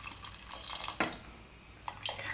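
Water splashing and running into a cooking pot in short bursts, close by and fairly quiet.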